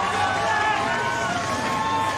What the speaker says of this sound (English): he's being roared on by the crowd here